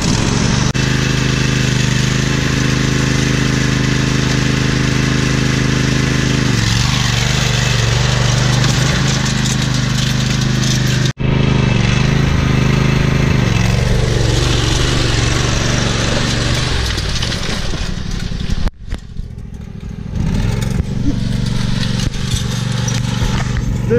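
A weighted tractor with chains and a non-hydrostatic drive revs hard trying to pull a wheelie, its loud engine droning steadily, dipping and surging, then cutting briefly before roaring again.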